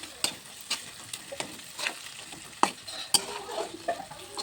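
A tomato, onion and garlic masala fries in oil in a pan and is stirred: soft sizzling runs throughout, broken by scattered scrapes and a couple of sharper utensil clinks, fairly quiet and with no talking.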